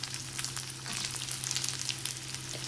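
Onion and tomato sautéing in a pan for ridge gourd chutney with tamarind, a steady, loud sizzle with crackling and stirring throughout, close and continuous with no talking.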